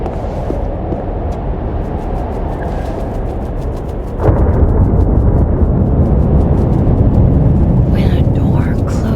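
Thunderstorm in the video game Life is Strange Double Exposure: a deep rumbling roar of rain and thunder that swells abruptly midway into a louder sustained crash, with faint talk near the end.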